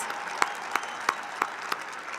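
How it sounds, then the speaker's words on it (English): An audience at a high school graduation ceremony applauds seniors committed to the military, a steady wash of clapping in a large hall, with several sharper individual claps standing out at regular intervals. "Please give them a round of applause."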